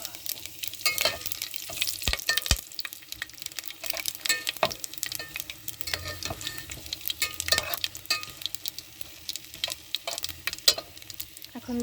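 Cumin and whole spices sizzle and crackle in hot mustard oil, a continuous frying hiss punctuated by sharp pops and stirring scrapes, close and fairly loud throughout.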